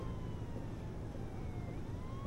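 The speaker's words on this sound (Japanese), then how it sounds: "パトカーの音がするよ。" A police car siren in the video game Heavy Rain wails steadily in the distance, its faint rising and falling tone sitting beneath a continuous low rumble of background noise.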